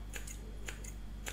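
Scissors snip through wet bangs in four quick, crisp cuts close up, set against a low, quiet background with no speech.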